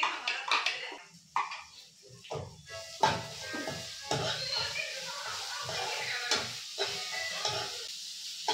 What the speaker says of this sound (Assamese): এক্সট্ৰাকৈ মই কেৰাহীত ভাজি লৈছোঁ চিকেনটো